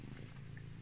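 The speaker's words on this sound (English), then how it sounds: "my cat's right here" A cat purrs close by, a soft, steady low rumble with no talking.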